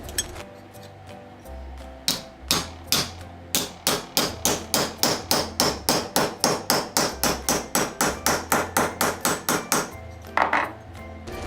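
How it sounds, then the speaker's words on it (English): A hammer strikes a folded metal sheet on a hard surface while fold forming a cuff bracelet, in a fast, even run of sharp ringing blows, close and loud, with a few slower hits at the start and end. "we are going to actually hammer on top of that fold"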